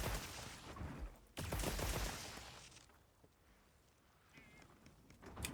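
Light bowgun in Monster Hunter firing Dragon Ammo at a training dummy: a rapid burst of sharp, loud shots for about three seconds, then quieter scattered impacts.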